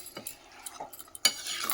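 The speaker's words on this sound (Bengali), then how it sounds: "এবারে মাংসটা ভালো করে কষাবো।" Meat with ginger, garlic, cumin and coriander masala is stir-fried in a pot, with a soft sizzle and brief metallic scrapes and clinks of a utensil, the strongest clack near the end, close and quiet.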